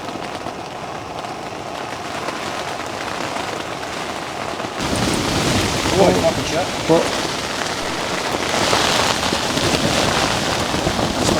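Heavy rain pours steadily during a storm at a camp under a giant umbrella, a dense close hiss that grows louder partway through, with a few low thuds and a brief spoken word.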